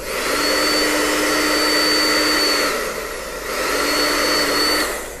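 A hair dryer gives a steady, loud motorized whir with a high whine, running continuously and dipping briefly in the middle before rising again.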